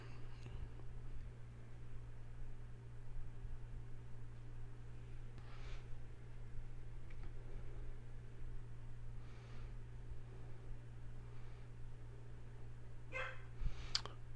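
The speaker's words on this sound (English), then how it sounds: "As Oreo barks his little doggy brains out outside." A dog barks outside, faint and distant, in a few scattered bursts over a steady low electrical hum.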